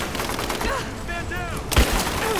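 Gunfire in Rise of the Tomb Raider crackles in scattered bursts beneath shouted voices, with one louder shot punching through near the middle.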